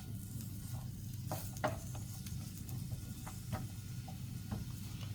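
Vegetables for spring rolls sauté on low heat with a splash of soy sauce, a soft sizzle beneath scattered light taps and scrapes of a wooden spoon stirring.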